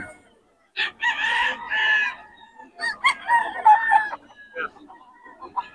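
A sweater gamefowl rooster lets out several loud, close crows mixed with shorter clucks, the calls coming in uneven bursts with brief pauses between them.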